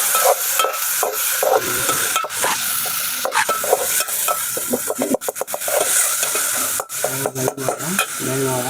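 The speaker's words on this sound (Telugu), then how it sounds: "వేగించుకోవాలి నూనెలోనే, అదే ఆయిల్లోనే వేపుకోవాలి అల్లం ఉల్లి పేస్ట్" Ginger-onion paste fries in oil in a pan while being stirred, a steady sizzle broken by repeated scraping and rubbing strokes of a spoon against the pan, close and fairly loud.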